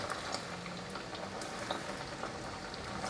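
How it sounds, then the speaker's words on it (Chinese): Slices of vegetarian chicken (su ji) deep-frying in hot oil, a soft steady bubbling crackle with scattered small pops, faint and continuous. "先来炸素鸡，油热了，因为怕喷油，所以一片一片放进来炸"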